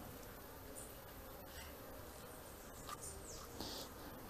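Apis honeybees buzzing faintly during a swarm capture and queen rescue, a low continuous insect drone with a few brief closer passes and light handling noises.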